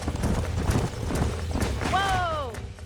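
Horses in the video game Red Dead Redemption trot with steady, close clip-clopping hooves. A clear whinny rises over the hoofbeats near the end.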